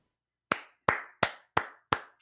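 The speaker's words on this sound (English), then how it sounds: "A round of applause for..." Five slow, deliberate hand claps from a single person, evenly spaced and sharp, each with a short ringing tail, close and loud in an otherwise quiet space.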